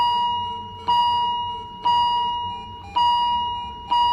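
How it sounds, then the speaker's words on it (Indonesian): A patient monitor in a hospital ward beeps alone: four steady, ringing tones, each falling away before the next, spaced about a second apart. "monitor salah satu pasien bunyi. Bunyinya tuh awalnya pelan, tapi makin lama makin cepat."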